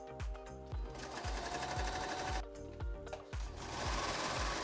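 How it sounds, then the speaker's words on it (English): A serger sewing two layers of fabric with a flatlock stitch, its cutter blade engaged, runs in short rhythmic bursts with brief pauses between them, close and fairly quiet with no talk. "Layer the 2 pieces of fabric and serge, just as you would for an overlock seam."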